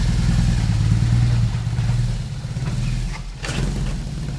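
A BMW motorcycle boxer engine with a pre-prototype custom exhaust idles with a deep, throbbing pulse close by, briefly dipping then picking up again with a quick rev near the end.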